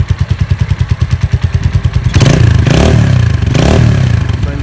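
Keeway Cafe Racer 152 motorcycle with a modified exhaust idling in steady low, bassy pulses, then revved in three strong rising and falling bursts, loud and close.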